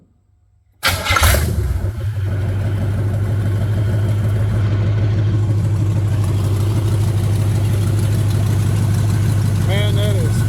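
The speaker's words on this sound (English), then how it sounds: "Let's give her a crank and see if she'll start." A 1966 Buick with a 350 engine cranks briefly after a moment of silence, catches and starts, then settles into a loud, steady rumbling idle that runs close by through the rest of the clip.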